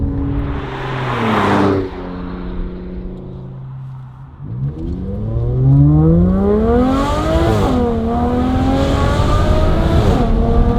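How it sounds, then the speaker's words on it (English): A loud Aston Martin Vanquish engine revs hard and climbs through several gears, pitch rising and dropping at each shift, with a brief lull between pulls. "Short shifting through the box with that increased engine responsiveness and low speed torque"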